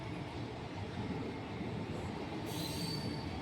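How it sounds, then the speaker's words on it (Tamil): Sethu Express pulling into Manamadurai station, a steady rumble of rolling railcars with wheel noise and a faint squeal rising near the end, heard from the platform at a moderate distance. "ஒரு வழியாக நம்ம ட்ரெயின் வந்தாச்சு."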